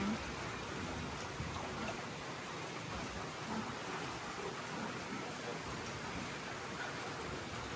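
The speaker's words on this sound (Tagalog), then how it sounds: "Ayan, so umuulan na naman." Steady rain pours down over a pig farm, a dense, even hiss of drops that holds constant and fairly soft throughout, with no break or other clear sound.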